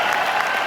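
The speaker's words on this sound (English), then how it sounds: "So let's please give them a round of applause." Applause from an audience at a live event, a dense, steady wash of many hands clapping at close range, loud and unbroken for the brief moment it lasts.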